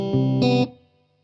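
A guitar delay pedal with an expression pedal setting its wet/dry mix plays a short, distorted, chorused phrase of a few notes, then cuts off and leaves a brief trail fading into silence.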